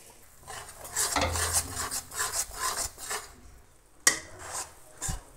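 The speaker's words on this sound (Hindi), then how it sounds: "जब तक ये थोड़ा सा हल्का सा इसमें खुशबू सी नहीं आ जाती तब तक भूनेंगे हम इसे" A spoon scrapes and stirs gram flour roasting in ghee in a pan, a series of soft rhythmic rasping strokes up close, with a sharp clink of metal near the end.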